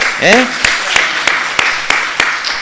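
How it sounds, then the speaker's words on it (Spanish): Slow, evenly spaced single claps ring out one at a time in a church after a brief voice at the start, a sparse welcome for Delfina rather than full applause. "le damos un cálido aplauso a Delfina también"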